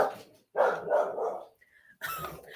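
A dog barks in short bursts at close range, two or three loud outbursts separated by brief gaps, heard indoors with nobody speaking.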